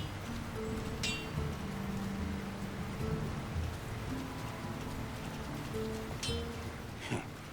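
Steady rainfall in the LOTR War in the North video game hisses without a break, with a few brief sharp clicks and low game tones mixed in. No one speaks.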